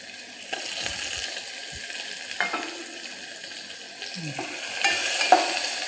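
Chopped onion and raw green mango fry in hot oil in a pan, with a steady, moderate sizzle, occasional stirring scrapes and a few faint clinks, no talking.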